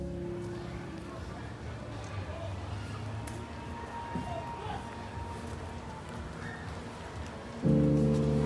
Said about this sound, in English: So it's raining today